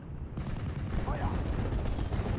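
Artillery gunfire in the WWII strategy game Steel Division 44 during a German campaign mission: dense, continuous low rumbling booms and rolling blasts, with a voice speaking briefly over the battle noise.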